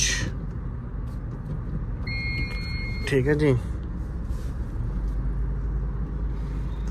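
A Tata Tiago hatchback rolls along a road, its steady low engine and tyre rumble filling the cabin while someone speaks briefly over it.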